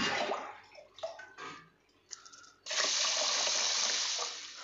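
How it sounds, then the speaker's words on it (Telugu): Water is poured over pearl millet grains in a container, with splashing in short bursts that give way to a steady, close gushing stream. "ఇప్పుడు ఫస్ట్ ఇవి ఇలా నీళ్ళు పోసేసుకొని"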